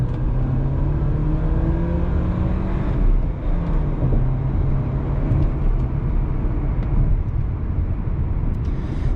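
A 2017 manual Audi A4 Premium sedan accelerates hard in second gear from about 30 mph, engine note climbing steadily and loud throughout, heard from inside the car without talk.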